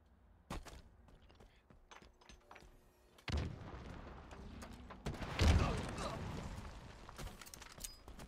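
Gunfire and explosions in the Halo Infinite video game, with scattered sharp shots, then heavy booming blasts and bursts of fire, loud and close, with some talking mixed in.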